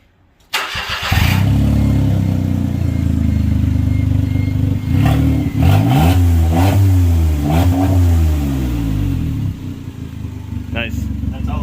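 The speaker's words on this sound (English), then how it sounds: "is currently straight piped because the flex pipe is fucked. Can we give it a rev?" A car engine with a straight-piped exhaust and a broken flex pipe revs hard several times, loud and close, bouncing off the limiter with raspy bursts over a steady idle, while people talk nearby.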